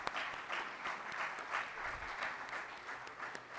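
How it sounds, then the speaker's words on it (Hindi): An audience at a Hindi kavi sammelan poetry gathering claps steadily and evenly, a soft, distant-sounding wash of applause with no talk over it. "जोरदार तालियां हो जाएं इन सभी के लिए।"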